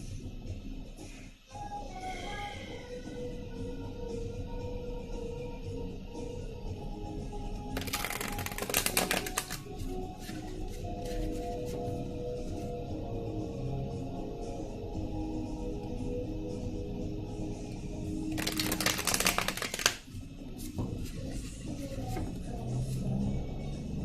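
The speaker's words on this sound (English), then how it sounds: "just give me one moment while I shuffle cards and connect" Two short bursts of tarot card shuffling, a riffle around the middle and another near the end, over a steady background hum with faint music.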